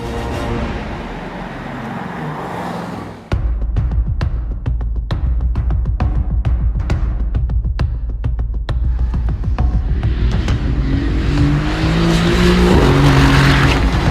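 A 2016 Mercedes-AMG GT S sports car engine pulls hard and close on country roads, throbbing rhythmically as it drives, then revs higher and louder toward the end.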